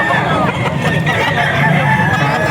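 Roosters and chickens at the Bocaue auction market crow and cluck over a busy crowd babble, the birds close and loud amid speech and background bustle.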